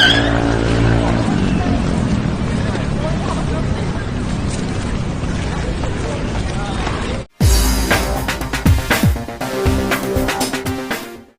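A car brakes hard with tires skidding as a young man on a motorbike narrowly escapes being hit; a long stretch of loud, continuous broadband noise ends abruptly and gives way to sharper, clattering sounds.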